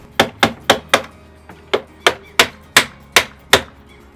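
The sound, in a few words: hammering a lock plate into a door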